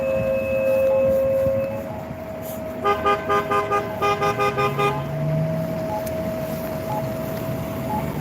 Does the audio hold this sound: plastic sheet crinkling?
no